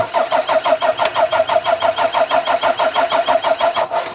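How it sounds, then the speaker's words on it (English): A car engine cranks over on its starter motor, turned directly under the bonnet with the key on, and fails to catch: a steady, rhythmic churning of even compression pulses, close and loud, with no firing or voices. "I've ran a exciter wire straight to the starter motor so we can turn it over under the bonnet"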